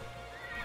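Horse whinnying in ARK Survival Evolved, a brief loud neigh with a wavering pitch, heard alone and close.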